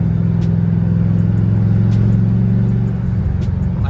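A Ford Edge with a swapped-in 3V engine runs at a steady, loud, close rumble, with the engine note easing slightly near the end; no voices are heard.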